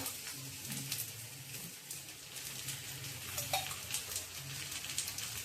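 Oil sizzling around a traditional bhajani thalipeeth frying in a pan, a soft, steady crackle with faint bubbling pops, heard alone without talk.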